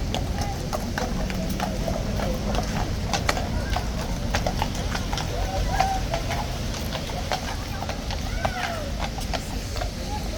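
A King's Guard horse at Horse Guards clip-clops along with steady hoof strikes on hard ground, moderately close, while people talk over it and birds chirp faintly in the background.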